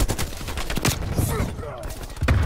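Rapid dual pistol fire crackles in Call of Duty Cold War, a dense burst of close, loud shots over game noise, with a voice speaking over the gunfire.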